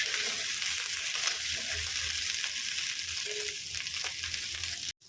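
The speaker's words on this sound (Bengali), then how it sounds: "আলুগুলো ভাজা ভাজা হয়ে এসছে, এবার দিয়ে দিলাম রোস্টেড করা গুঁড়ো মশলাগুলো" Potatoes fry in a pan with roasted ground spices, giving a steady, close sizzle and crackle with faint stirring that runs unbroken before cutting off abruptly at the end.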